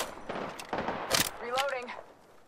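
Several bursts of gunfire in Apex Legends go off close by, with sharp separate shots, and a voice speaks over the last of them.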